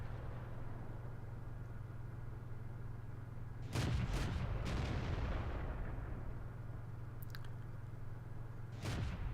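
Churchill tank's quick-loading main gun firing in World of Tanks, a heavy booming shot at about four seconds followed by a second blast near nine seconds, over a constant low engine rumble.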